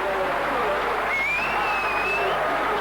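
Rugby league crowd at Hull versus Hull KR applauding players John Sharp and Ian Marlowe, a steady wash of clapping and cheering with a commentator talking over it.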